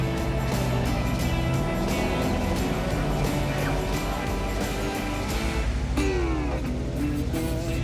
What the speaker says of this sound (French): Juste le son du moteur.